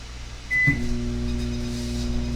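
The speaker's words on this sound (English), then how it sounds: "It's beeping. It's beeping. See that? It's beeping." A single short electronic microwave oven beep rings out over a steady low appliance hum, which keeps droning afterward with no other sounds.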